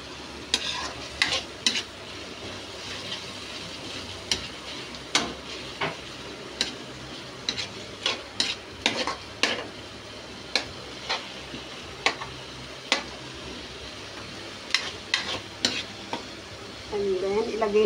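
String beans stir-frying in a pan of pinakbet, with a steady sizzle under repeated sharp scrapes and clicks of a utensil stirring at an irregular rhythm, close by.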